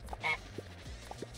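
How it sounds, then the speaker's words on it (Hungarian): A goose-like honk sounds once in the Fall Guys video game, loud and nasal, followed by soft thuds and quieter game noises. "Ez pocó lehetett, nyomott ilyen gágogó hangot."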